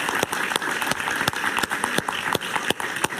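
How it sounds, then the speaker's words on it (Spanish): A television studio audience claps for Jaime on a talk show. The applause is fairly loud and sustained, with sharp individual claps standing out from the steady wash. "Un aplauso para Jaime"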